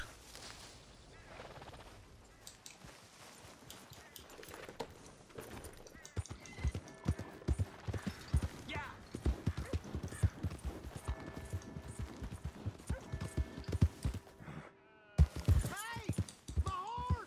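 Steady clip-clop of horse hooves trotting in Red Dead Redemption 2, loud and close, mixed with game sounds and a brief burst of noise near the end; no one speaks.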